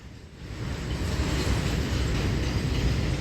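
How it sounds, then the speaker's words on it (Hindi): A coal freight train rolls past close by near the Daurala town railway station, giving a steady, loud rumble of wagons throughout with no pauses. "ये देखें कोयले की ट्रेन जा रही है, क्योंकि यहीं पे स्टेशन भी है"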